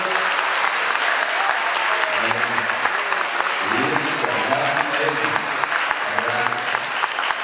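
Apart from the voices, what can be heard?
audience applauding in church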